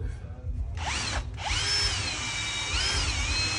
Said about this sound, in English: we're gonna take the drill right here, a little pilot bit, and we're gonna drill it